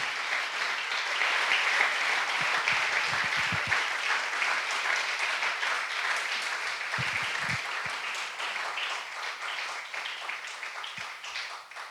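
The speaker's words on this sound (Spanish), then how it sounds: "Déle ese aplauso fuerte al Señor." Sustained, loud applause from a church congregation, dense clapping filling the room evenly for several seconds before easing slightly.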